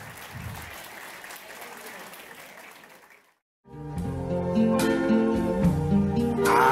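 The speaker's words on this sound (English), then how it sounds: "Let's get a nice big round of applause for a beautiful dance between a bride and her grandpa." Wedding guests at a baseball stadium applaud a bride's dance with her grandfather, a steady wash of clapping that fades to silence before a song with singing starts up.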